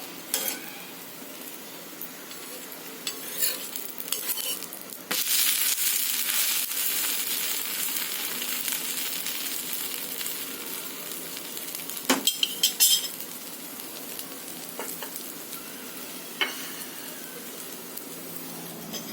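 Oil or ghee sizzles in a pan while kara appam or dosa cooks, a constant crackling fry with sharp spoon or spatula scrapes and clinks against the pan, loudest partway through, no voices.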